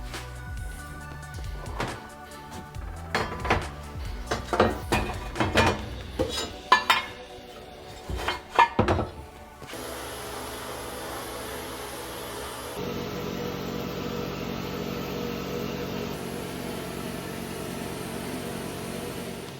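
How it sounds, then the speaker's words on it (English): Clanking and rattling of Yamaha YZ250 two-stroke engine parts give way to a loud, steady hiss and whoosh of a pressurized vapor blasting machine running continuously. "now it's time to throw them in the vapor blaster"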